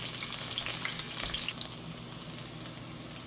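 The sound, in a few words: chilies and garlic frying in a pan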